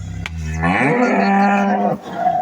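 A Holstein Friesian cow at a cattle farm gives one long, loud, close moo that rises and holds steady before trailing off.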